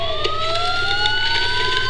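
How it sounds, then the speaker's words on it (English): Police sirens in the video game Batman: Arkham Asylum wail continuously with rising, overlapping tones, loud and close, over a low rumbling background. "Sirens."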